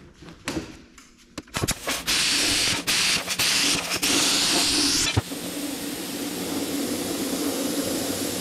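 A cutting torch hisses loudly during body work on a Dodge Cummins truck, starting with several sharp bursts and pops, then holding a long steady roar that eases to a softer hiss.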